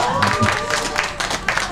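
Audience applause of encouragement at a 1 January 2019 Haeundae sunrise festival street performance, a short burst of close-up clapping that blends with a voice and crowd murmur.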